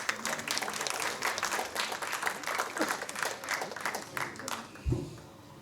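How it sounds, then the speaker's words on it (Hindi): Audience applause at a literary and cultural festival in Mumbai, rippling steadily at moderate volume with some crowd murmur, ending in a thump. "जोरदार तालियों के साथ।"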